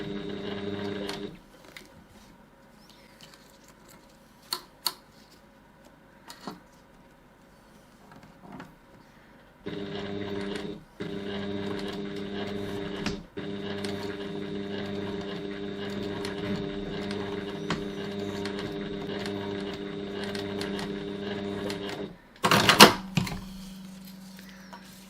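Sewing machine stitching slowly through a bag, bursts of mechanical whirring and tapping that stop and restart, with a longer steady run in the middle and a few sharp clicks, close and moderately quiet.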